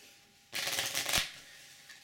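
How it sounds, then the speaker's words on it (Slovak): A deck of playing cards being shuffled in one quick riffle burst of about a second, close and fairly loud, set among near silence as part of a card trick demonstration. "pomiešam, dávam karty"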